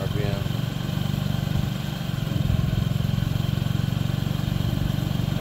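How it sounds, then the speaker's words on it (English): A liquid-cooled Honda Ruckus scooter engine runs through its first cold start of the year, a close, steady buzzing drone with little change across the stretch. "Oh yeah, it's getting up there higher in RPM."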